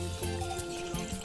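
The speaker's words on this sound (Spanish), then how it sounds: "Echamos agua," Water pours steadily into a pot for bean and chard broth, a continuous close splashing and filling sound with no talk.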